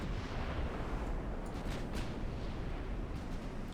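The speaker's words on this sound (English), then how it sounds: "Continue shooting at the battleship if you can." Naval guns fire on a battleship in the Ultimate Admiral Dreadnoughts naval game, a dense, continuous rumble of heavy booms that rolls on steadily and loudly with no talking.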